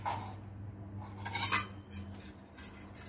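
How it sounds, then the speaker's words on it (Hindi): A kadai, an Indian wok, is set down on a stove with a short metallic clank and clink, followed by faint rattles against the burner in a quiet kitchen. "अब हम एक कढ़ाई ले लेते हैं।"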